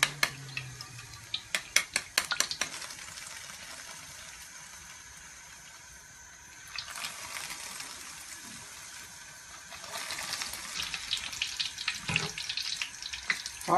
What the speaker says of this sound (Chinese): 炸好的冬瓜咱们就把它捞出来